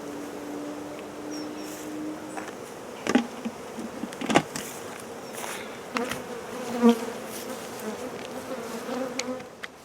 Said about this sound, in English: as you can see, the bees are flying well